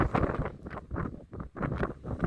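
Strong gusty wind buffets the microphone on a hilltop in Auckland, coming in loud rumbling bursts with brief lulls between them.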